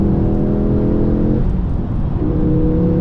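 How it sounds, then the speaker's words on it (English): A Ford Focus RS mk2 with just 7k miles downshifting and accelerating to overtake, heard from inside as a loud, steady engine drone with a brief dip and shift in pitch midway before pulling on again. "Just downshift and overtake."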